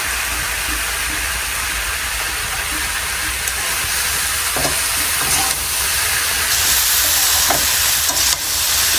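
Sweet pumpkin frying in a pan with chili powder gives a loud, steady sizzle and hiss close up, unbroken throughout with no talking.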